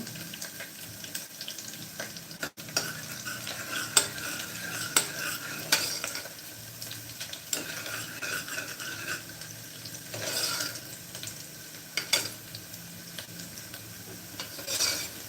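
Onions frying in oil while a spoon stirs them until reddish brown, for a chickpea amti in a home kitchen; a steady soft sizzle runs under repeated scraping and clinking of the utensil against the pan, with no talking.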